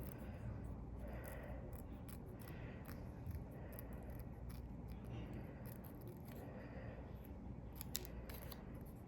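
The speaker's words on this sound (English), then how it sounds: "You have to carefully cut the edges of the V-Smile." Small scissors snip around the edges of a recycled craft piece, quiet, close-up cuts repeating in short irregular bursts over a faint background hiss.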